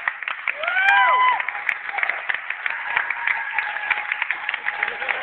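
Audience applause for the Arcimoto electric-vehicle team at a live event, a steady dense patter of clapping throughout with a voice and whistle-like tones briefly rising over it near the start.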